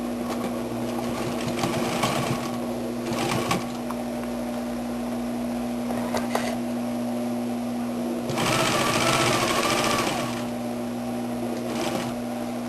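Sewing a French seam on jeans, the machine runs in several whirring bursts of varying length, the longest near the end, with a constant low hum and pauses between runs.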